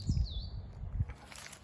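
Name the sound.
robins singing in an English garden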